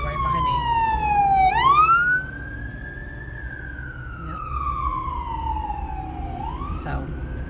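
An emergency vehicle siren wails past, its tone sweeping down and then back up as it goes by, loud over steady traffic rumble.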